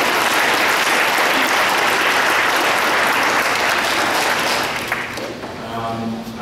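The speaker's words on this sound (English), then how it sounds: "Please give them a round of applause." Sustained, loud audience applause fills a hall at a December celebration for the hosting committee and student helpers, tapering slightly toward the end as a few voices come through.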